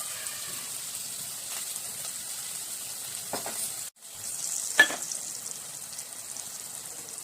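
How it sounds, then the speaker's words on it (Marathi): Onion and tomato frying in a spiced tempering of oil and fenugreek seeds for mixed-dal sambar, a steady close sizzle with a couple of brief stirring scrapes and a short dip partway through. "त्यानंतर कांदा टोमॅटो फोडणी घालूया"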